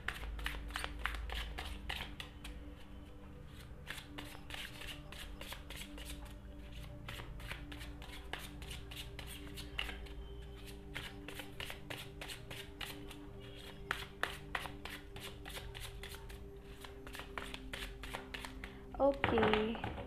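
Tarot cards are shuffled by hand in repeated soft riffling bursts, close and fairly quiet, continuing steadily for about twenty seconds, with a brief sharper clatter near the end.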